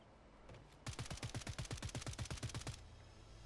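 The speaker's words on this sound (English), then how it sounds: "That was you shooting at that guy?" Rapid automatic gunfire from Call of Duty, a steady burst of about two dozen evenly spaced shots lasting roughly two seconds, loud and close, starting and stopping abruptly with no talk over it.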